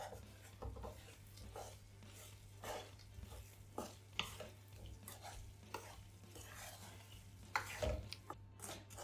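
Quail egg pickle is stirred in a pan with soft, irregular scrapes and clinks under a steady low hum, all faint and close, with no talking.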